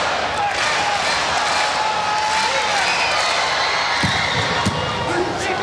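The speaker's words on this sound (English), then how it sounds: "And now the crowd trying to supply some energy" Arena crowd at a Hawaii versus Stanford men's college volleyball match roars in a steady, loud wall of cheering and shouting, with a couple of sharp thumps near the end.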